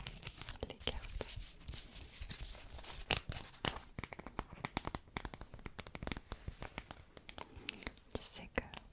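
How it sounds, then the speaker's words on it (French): Fingertips and nails tap on the backs of playing cards in a close, quiet ASMR setting, giving rapid, irregular crisp clicks and papery rustles alongside soft whispering. "mon tapping préféré, c'est exactement ça, sur le dos des cartes"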